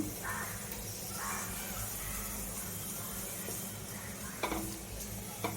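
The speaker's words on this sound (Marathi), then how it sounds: "आता आपण बोंबील फ्राय करायला घेऊया." Bombay duck (bombil) fish coated in gram flour, semolina, rice flour and masala frying in oil, a steady close sizzling hiss throughout, with a couple of light utensil clinks near the end.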